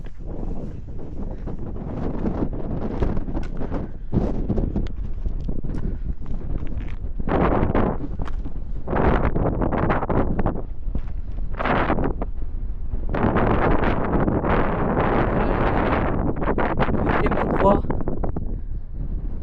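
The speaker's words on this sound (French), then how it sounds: "Le vent recommence là." Strong outdoor wind gusts in Marseille buffet the microphone in a continuous loud rumble, swelling and easing in repeated surges across the whole stretch with no pause.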